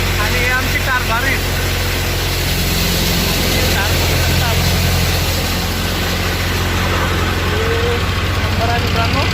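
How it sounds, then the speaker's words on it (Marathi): A combine harvester at work harvesting pigeon peas in a farm field, its engine drone steady and loud throughout with a constant low rumble, close by and continuous. "आज आपल्या शेतामध्ये हेडम आलेला आहे तूर काढण्यासाठी"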